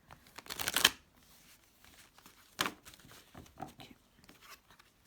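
Quiet riffling and flapping of playing cards being shuffled, a brisk burst followed by softer scattered shuffles and taps, close and alone.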